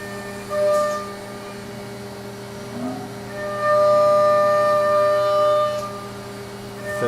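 A Haas VF-2SS CNC mill spindle spins at 12,000 RPM with coolant off, holding a steady, loud whine of layered pitched tones that swells slightly midway, with no one speaking.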